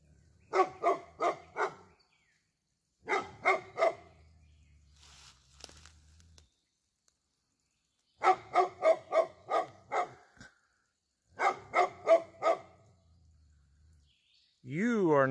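A dog barks in several quick bursts of three to five barks, separated by pauses, with some rustling between them and a final sharp noise at the end.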